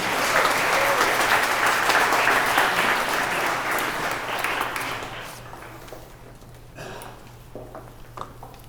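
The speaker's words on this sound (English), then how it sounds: "let's get a round of applause" Wedding guests applauding at a ceremony, warm crowd clapping with a few whoops that stays full for about five seconds, then fades to scattered claps and room murmur.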